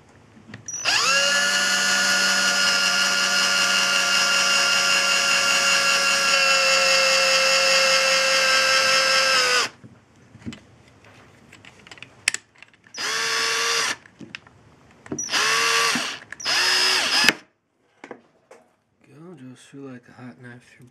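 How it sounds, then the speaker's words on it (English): A drill press bores pilot holes through Tesla coil support bracket stock, running in one long steady whine and then several shorter bursts as it spins up and stops, loud and close, with a voice speaking now and then. "drill press, because it'd make a whole lot easier to drill straight lines on through"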